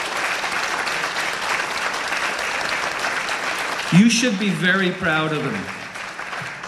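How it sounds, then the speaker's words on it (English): An audience at a county literary festival gives a strong, continuous round of applause for young presenters, while a voice speaks over the clapping in the second half. "They deserve a big round of applause."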